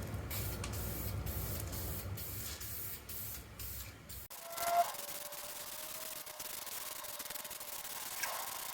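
Spray gun laying a heavier coat of paint onto a TH350 transmission, a steady close hiss that runs continuously for the first half, then gives way to quieter hiss with a faint tone.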